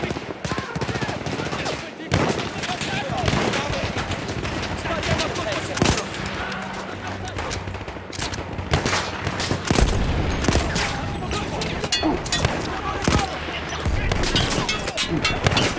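Dense, loud gunfire fills a World War I battle in Battlefield 1, with rapid machine-gun bursts and scattered shots overlapping nearly continuously.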